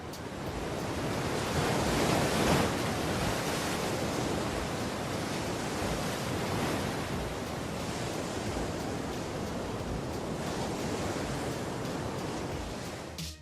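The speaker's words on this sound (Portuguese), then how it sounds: "As ondas conhecidas como Jaws estão na costa norte da ilha de Maui, debaixo de impressionantes rochas" Huge ocean waves break at Jaws on the north shore of Maui beneath rocky cliffs, a loud continuous roaring surf with a surge early on and wind rumble throughout.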